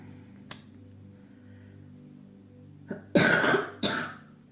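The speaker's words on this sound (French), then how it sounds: "je vais tousser, je reviens" A brief throat clearing followed by two loud, close coughs in quick succession, after a faint click.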